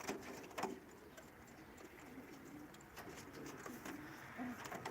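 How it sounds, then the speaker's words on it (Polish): Pigeons coo softly and repeatedly outdoors at low level, with faint wing flutters and bird calls scattered through steady background ambience. "widać gołębie latające"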